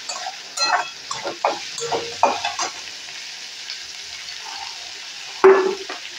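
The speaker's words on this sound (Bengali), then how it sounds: "মটরশুঁটিও একসঙ্গে করে ভেজে নিচ্ছি।" Peas fry with ginger and chilli in a pan, a soft sizzle broken by several scraping stirs and a sharp clink of a utensil near the end.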